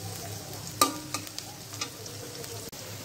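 Six medium onions fry lightly in a pan for beef tehari, giving a quiet, even sizzle with a sharp clink near the start and a few soft stirring taps.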